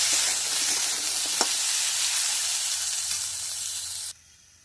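Mixed vegetables fry in oil in a wok in a village kitchen, a loud, steady close sizzle and hiss with a few stirring scrapes, cutting off abruptly near the end.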